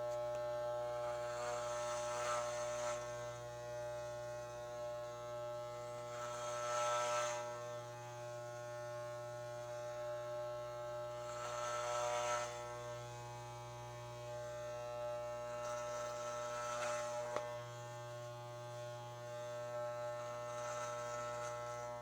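Electric hair clippers fitted with an 8 guard cut and blend hair on the sides for a mullet, a steady close buzz over mains hum with brighter swells as the blade passes through hair roughly every five seconds.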